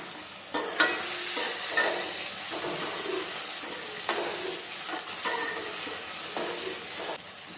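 Curry leaves dropped into hot frying oil with tomato for a brinjal and cowpea curry, a steady loud sizzle and hiss with intermittent crackling bursts and stirring scrapes throughout.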